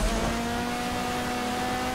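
A car engine drones steadily throughout a snowy race in the video game GTA Online, a constant mid-loud hum with tonal whine and road noise and no voices.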